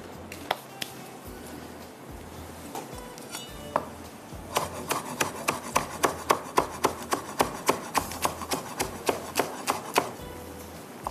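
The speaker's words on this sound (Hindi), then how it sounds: "इसको हरी प्याज को हम बारीक काट लेते हैं" Green onions are finely chopped on a board, first with a few scattered knife strikes, then a quick run of regular, close, crisp chops.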